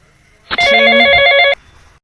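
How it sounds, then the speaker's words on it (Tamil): A phone ringing with an incoming call, one loud, close electronic ring burst lasting about a second before cutting off into quiet. "ஃபோன் பண்ணுறாரு"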